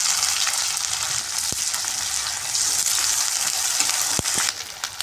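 Onions fry in a pan with ginger-garlic paste just added for a spicy country chicken and potato curry: a constant bright sizzle with a few sharp utensil knocks against the pan while stirring.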